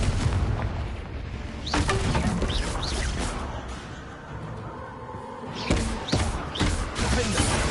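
Confringo blast spells cast in the game Hogwarts Legacy, with several booming bursts and crackling impacts in clusters, the noise easing briefly in the middle before more blasts follow.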